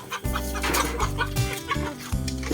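Several chickens clucking nearby, with repeated short clucks and a few longer calls overlapping over a farmyard background.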